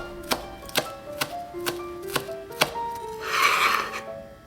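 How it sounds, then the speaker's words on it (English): A kitchen knife slices chives thinly on a cutting board, with six evenly spaced, crisp chops close up and then a soft scraping sweep at the end. "slice the chives thinly and set aside"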